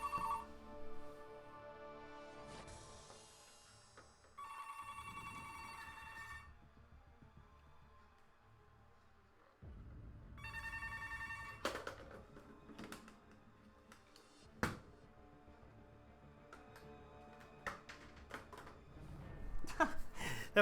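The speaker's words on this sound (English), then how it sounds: "That phone is like possessed." An office telephone rings repeatedly in bursts of bright electronic trills, with gaps between the rings and some background noise.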